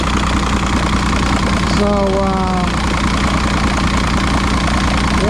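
A 2006 Evinrude 90 E-TEC outboard engine idles close by, a loud steady low rumble with a fast even pulse, while someone briefly speaks over it.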